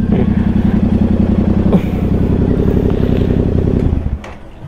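A Vespa scooter engine idles and runs steadily nearby with a continuous low rhythmic putter, then cuts off near the end.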